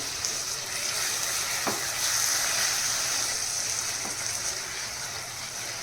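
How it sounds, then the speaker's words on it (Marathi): A steady sizzle of chicken masala frying in a pan, with a couple of soft scrapes from stirring and no talking. "एक दोन मिनटं आपण असं छान फ्राय करून घेऊया"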